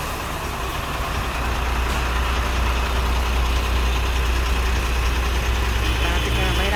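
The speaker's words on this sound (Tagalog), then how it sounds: "Laki ng truck, oh." A large truck idles in traffic, a loud, steady low engine rumble throughout with faint voices in the background.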